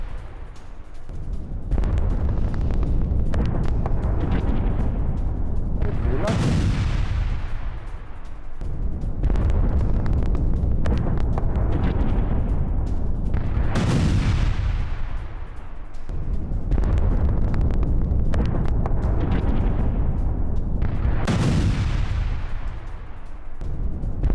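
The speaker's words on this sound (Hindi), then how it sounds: "गाजा में अभी अभी भीषण बमबारी दिखाइए जरा" Heavy bombing explosions in North Gaza heard as news footage, three huge booming blasts several seconds apart, each followed by a long rumbling roar that dies away before the next, loud and continuous with no voices.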